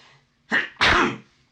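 A single close sneeze, a short intake followed by a loud burst, then quiet.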